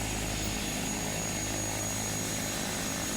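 Cirrus SR-22 propeller aircraft in a flight simulator, its engine a constant broadband drone with a steady whine, loud and unbroken throughout.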